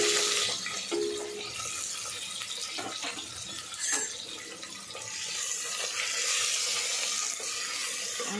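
Chopped onions dropped into hot oil for a spice tempering, a steady hissing sizzle that swells and stays loud, with a brief clatter partway through.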